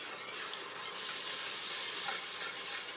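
Table cream being whisked into a béchamel roux on medium heat makes a constant, close, hissing sizzle with a steady whisking scrape, alone without talking.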